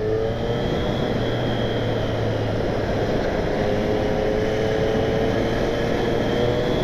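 A 2020 Triumph Street Triple S 660 motorcycle engine runs at a steady, even drone, loud and close, with no speech over it.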